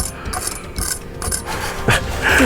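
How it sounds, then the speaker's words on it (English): Rough scraping and crunching of a knife sawing through a hard, well-cooked steak crust, with uneven strokes and a louder grinding pass near the end. "The crust is hard to cut through"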